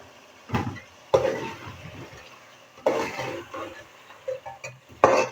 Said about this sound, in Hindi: गरम मसाला शामिल करेंगे और इसको थोड़ा सा भून लेंगे।